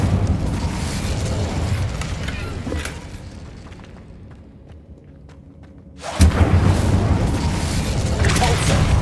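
Incendio fire spell cast in Hogwarts Legacy, a loud booming burst that fades into a quieter lull before a second sharp explosive blast erupts and roars on, with a brief vocal cry early on.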